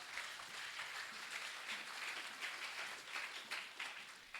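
A church congregation applauds during a Sunday worship service in a steady, dense wash of clapping from many hands that swells and ebbs slightly but never stops. The room sounds large, and the applause sits at a moderate distance.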